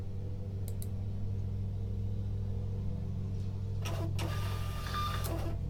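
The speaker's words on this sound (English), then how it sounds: "It printed out quickly." A Rollo thermal label printer runs over a steady low mechanical hum from about four seconds on, giving a quick burst of feeding and printing with sharp clicks as a label comes out.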